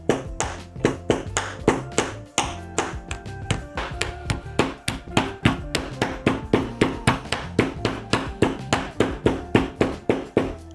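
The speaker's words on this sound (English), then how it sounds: "So I'm gonna start hammering this right now and just hammer all this off." Steady hammer blows knocking beads off beaded fabric, a long run of sharp, evenly spaced taps repeating close and loud with no talking.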